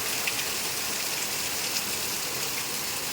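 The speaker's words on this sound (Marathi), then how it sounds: "खूप खूप खूप पाऊस पडतोय" Heavy monsoon rain pours down in Nalasopara in a dense, unbroken hiss, steady and loud throughout with no other sounds.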